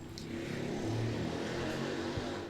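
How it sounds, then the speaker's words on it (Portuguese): A motorcycle engine drones steadily outside, a low rumble that swells slightly in the middle and then fades as it passes, with no talking. "Barulho da moto aí, desculpem."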